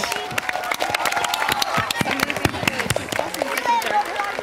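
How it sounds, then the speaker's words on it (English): An audience at a school annual day event applauds the music, drama and art staff, a dense patter of many hands clapping under a speaking voice. "A big round of applause to all of them."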